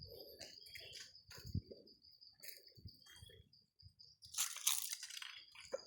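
Birds chirp and tweet faintly outdoors near a village in Laos, mixed with a steady buzz of crickets and a few soft crunching footsteps. The sound is quiet, with a brief louder burst of chirping near the end.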